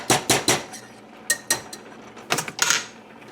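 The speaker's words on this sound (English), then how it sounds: "Just gonna stir that up." A spoon scrapes and knocks around a pot while a thick flour mixture is stirred, giving a run of sharp clattering strokes in bursts, close and fairly loud, with no talking.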